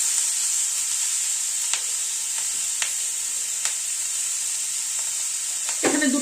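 Capsicum frying in a pan with black cumin, fenugreek and garlic, giving a steady bright sizzle with a few stirring clicks and a louder scrape near the end.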